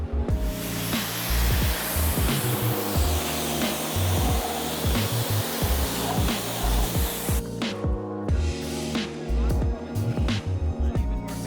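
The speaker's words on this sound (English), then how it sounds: "The very first pressure washer." A Pressure Pro 2500 pressure washer spraying a loud, continuous hissing jet under the steady drone of its motor, with a shift in tone partway through.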